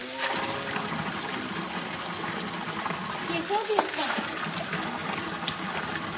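Drinking water flows and splashes steadily nearby, a constant gushing stream, with voices faintly audible over it.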